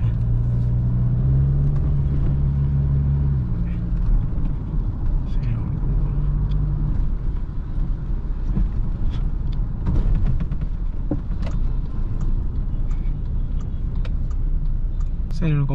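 Toyota Hilux 2.8 diesel engine rumbling and knocking while driving along a narrow road, with a low drone throughout and people speaking over it.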